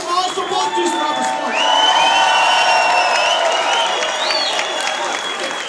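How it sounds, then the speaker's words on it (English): A large crowd applauds, cheers and whoops loudly and continuously at a rap battle at Pumpehuset, with a sustained dense roar and scattered shouts throughout. "Make some noise for Particle Man"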